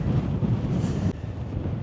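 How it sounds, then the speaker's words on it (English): Strong wind on the exposed summit of Binsey Fell buffets the microphone in a continuous low roar, with a brief dip partway through before the gusting resumes. "It's quite a windy fell, this one"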